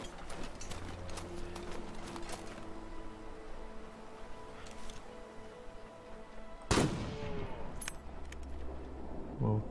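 Rifle fire in The Long Dark, a survival game: one sharp, loud shot stands out near the end, ringing over a soft ambient game backdrop with scattered clicks and rattles, and a second report is hard to pick out.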